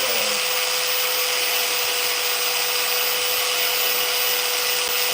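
A chainsaw carving a wooden Steve figure from Minecraft, running loud and steady at a constant, even pitch throughout, close up with no pauses and no speech.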